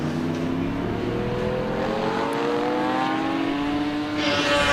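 Porsche sports racing cars pass through traffic at a circuit, engines droning loudly with rising and shifting pitch as they go by.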